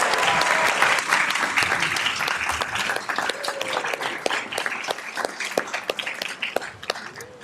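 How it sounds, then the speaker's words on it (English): A room of attendees at a city school board meeting breaks into sustained applause, dense clapping starting full and thinning slightly toward the end, with faint voices underneath. "member Halbo reads her broadcast statement, please join me in a big round of applause in congratulating her and being accepted to Gonzaga University."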